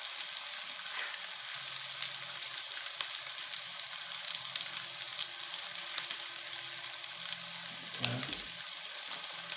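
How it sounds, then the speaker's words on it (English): A ribeye steak sizzles steadily in a hot pan with the flame turned off, a continuous soft frying crackle, with a brief clink near the end. "It's still sizzling because the pan is still hot"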